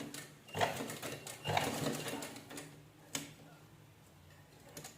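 A sewing machine stitches blouse fabric while attaching tassels to a saree: short, rapid mechanical bursts of stitching separated by pauses, fairly close, with a little talk in the background.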